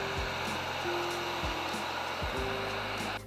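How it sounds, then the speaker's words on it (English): A heat gun blows steadily outdoors on a cold day, drying primer on a laminate dining table, with a constant close whooshing hum and a few faint low thumps under it. "I sped up the drying process by using a heat gun."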